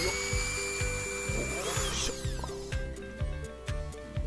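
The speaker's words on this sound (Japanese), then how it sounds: "先ほど印を入れたところにドリルで穴を開けます" A power drill whirs steadily up close, boring holes in metal, its motor pulsing in a quick regular rhythm with a brief higher screech midway as the bit bites.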